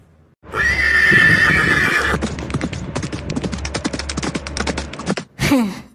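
A cartoon horse gives a loud whinny, then hooves clip-clop in a quick, steady trot close by, ending with another short neigh.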